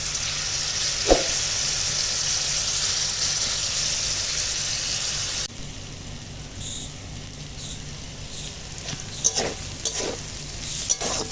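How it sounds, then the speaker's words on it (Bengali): Snake gourd stews in its own released water with kalonji tempering, a steady sizzling bubble filling the pan throughout, with a few sharp clinks of a spoon stirring near the end. "এই জলেই চিচিংয়ে সেদ্ধ হয়ে রান্না হবে"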